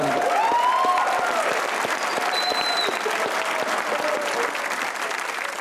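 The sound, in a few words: studio audience applause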